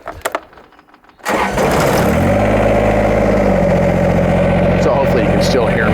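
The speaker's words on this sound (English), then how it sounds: "hopefully you can hear me over the sound of the engine" A few clicks and a brief crank, then a Kubota BX tractor engine catches and settles into a loud, steady diesel idle.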